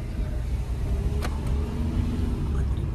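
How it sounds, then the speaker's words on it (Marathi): A car drives onto an M2M ferry boat at Mandwa, Alibaug, with a steady low engine and road rumble throughout and a brief squeak partway through. "आपली गाडी आता एंट्री करते."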